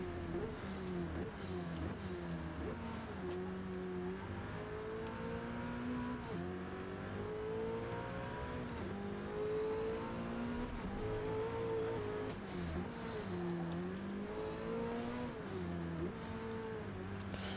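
Race car engines roar continuously in a racing video game, the revs rising and falling in repeated sweeps as cars accelerate and overtake, loud and steady throughout with no talk.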